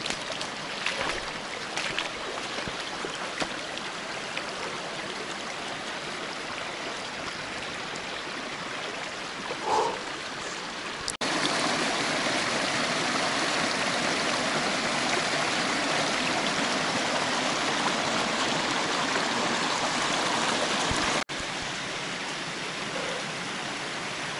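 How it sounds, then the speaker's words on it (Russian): A widening forest stream runs steadily, its broad, even rush of water heard close up and continuous, with no voices over it. "Здесь ручей пошире стал"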